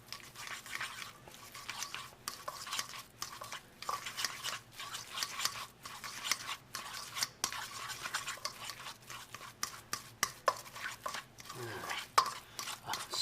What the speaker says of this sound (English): Get it mixed up well.